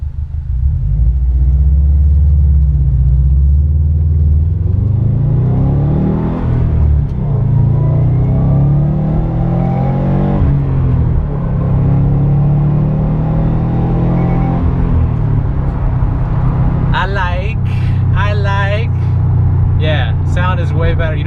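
A 2016 Subaru WRX STI with its sound generator tube removed drives along with a loud, steady, deep engine rumble that swells and eases slightly under acceleration. Brief voice-like sounds appear near the end.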